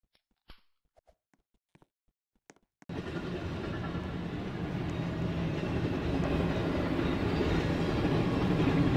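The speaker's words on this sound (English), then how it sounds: "Train versus train, who will win?" Trains roll along the tracks in the Roblox game Trains vs Cars, starting abruptly after a few faint clicks and then a continuous rumbling clatter that stays steady and fairly loud to the end.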